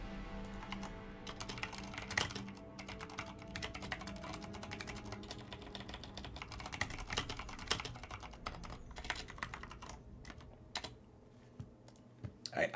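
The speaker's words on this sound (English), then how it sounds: "I apologize for the vigorous typing while we were dying here." Rapid, vigorous typing on a computer keyboard during a Magic Arena card game, a dense stream of sharp key clicks with occasional louder strikes, close and continuous, with faint voices in the background.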